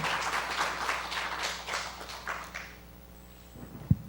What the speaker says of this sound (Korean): 한 번 더 박수로 맞이해 주시기 바랍니다.